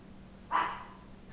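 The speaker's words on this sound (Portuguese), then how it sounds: "Vocês ficam latindo, vocês me deixam nervosa" A single short dog bark close by, fairly loud, cutting through a steady low indoor hum, with quiet before and after.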